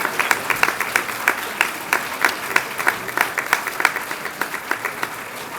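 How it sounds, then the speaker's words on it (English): Audience applause for eighth grade choir students at a middle school recognition program, a steady patter of many hands clapping with sharp individual claps standing out, moderately loud and close, with no talk over it. "I'd love to give you a round of applause."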